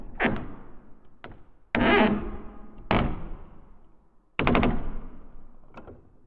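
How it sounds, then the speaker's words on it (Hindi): Heavy knocks on a closed wooden door as an audiobook sound effect, several loud resonant thuds spaced irregularly, each ringing briefly before fading, with no talking. "उसी समय बंद दरवाजे से आवाज आई।"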